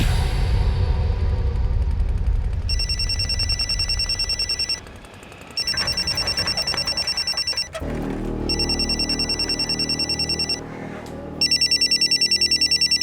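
A phone rings loudly in repeated electronic bursts with short gaps, over a noisy background that shifts partway through.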